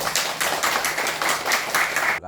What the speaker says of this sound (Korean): 우리 다같이 한번 경례의 박수 한번 드리겠습니다.